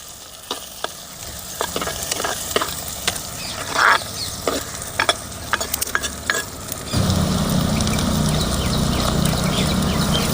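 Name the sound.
onions frying and being stirred in ghee and groundnut oil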